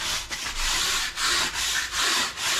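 Quick, repeated brushing strokes scrub dirt off a piece of wood before sanding, a close, even rasping swish in a steady rhythm of about five passes, with no talking.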